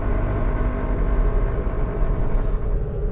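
A Maruti S-Presso VXi city car drives along, its engine and exhaust giving a steady low rumble close by, with road noise blending in and no talking.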